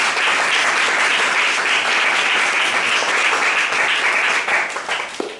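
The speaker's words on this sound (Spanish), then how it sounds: "fuerte aplauso para él." Sustained audience applause for guest Kike Ibáñez at a talk, dense and steady clapping from a crowd that begins to taper off near the end.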